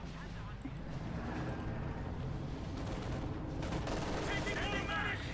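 Gunfire from tanks and infantry in the Company of Heroes 2 video game, with a Panther tank firing on an IS-2, goes on as continuous rattling shots and blasts, dense and loud throughout, with a voice talking over the battle.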